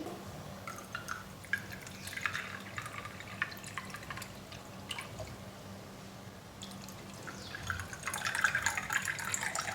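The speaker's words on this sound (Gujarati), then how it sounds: "અને ઠંડુ પાણી એડ કરી દઈએ।" Cold water poured into a glass of fennel sherbet over ice cubes, a soft steady trickle with scattered drips and clinks, fairly faint and close, with no talking.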